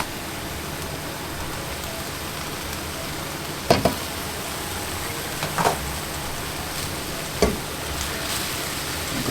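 Singapore noodle stir-fry with chicken cooking in a pan, a constant hissing sizzle with a few brief knocks of stirring, fairly close.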